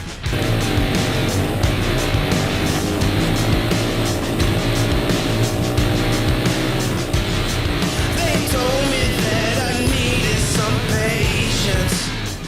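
Five motorcycles circling together inside a steel globe of death during a live stunt show, their engines blending into a continuous, loud, droning roar with rising and falling revs and no break.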